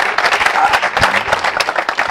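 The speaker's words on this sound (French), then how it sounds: "Sous vos applaudissements encore." A studio audience at a televised French public debate show applauds loudly, a dense, close burst of clapping that holds steady throughout.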